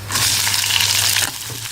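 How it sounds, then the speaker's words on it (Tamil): Onions sizzle and fry steadily in a hot pan for spiced wheat dosa, a dense, close hiss with faint stirring scrapes and a low hum underneath, easing slightly near the end. "இப்போ வெங்காயம் போட்டுக்கலாம்."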